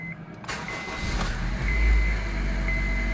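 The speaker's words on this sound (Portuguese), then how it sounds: "Vamos dar partida no carro aqui." A 2007 Honda Civic EX automatic cranks briefly and its engine catches, then settles into a low, steady idle heard close up with no talking.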